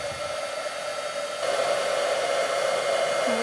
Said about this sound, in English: now I'm going to heat it with my heat tool